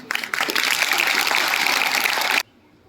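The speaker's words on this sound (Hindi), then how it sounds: "तो जोरदार तालियों के बीच इम्तियाज साहब को आप सुनिए।" An audience applauding at a school tuberculosis awareness programme: a loud, dense burst of clapping that starts abruptly, holds steady for about two seconds, then cuts off sharply into near quiet.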